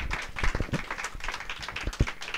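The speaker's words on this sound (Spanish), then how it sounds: "Pues un aplauso por favor para la licenciada." An audience applauds at an academic forum on migration and children's educational rights, producing a dense, steady patter of many hands clapping for the whole stretch, with a few sharper claps standing out.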